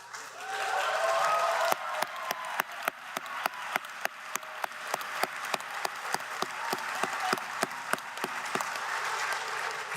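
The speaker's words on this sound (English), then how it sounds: "Please join me again in a well-deserved round of applause for all of our honors graduates." Sustained applause from a commencement audience honoring graduates, a dense wash of many hands with a steady, rhythmic clap pattern emerging partway through and continuing to the end.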